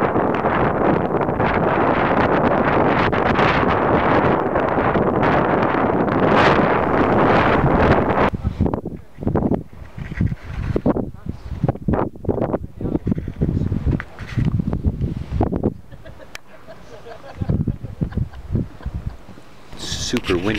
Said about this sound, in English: The wind is just incredible